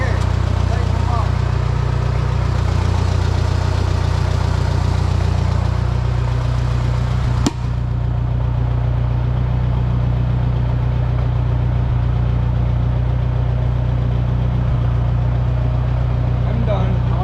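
An Oliver 660 tractor engine idles steadily after a clutch repair, a close, continuous low rumble with one sharp click partway through and brief voices in the background.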